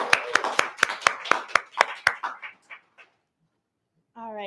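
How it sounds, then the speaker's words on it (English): Audience applause at a business breakfast event, a brief burst of claps that fades out within a few seconds, followed by a moment of quiet before a voice begins. "a round of applause for that breakfast this morning"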